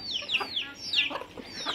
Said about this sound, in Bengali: এই যে আমার মুরগি টাপার ভিতরে বেঁধে থেছে, এই মুরগি।